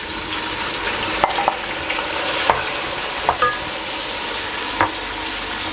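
A steady hiss of tomatoes sizzling in hot ghee with browned onions, with occasional light stirring scrapes and clinks of a utensil against the pan.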